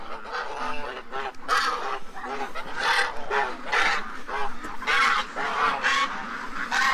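Several geese honking close by at night during a rescue and feeding of ducks and geese, loud overlapping nasal calls in irregular bursts, one after another, with no speech.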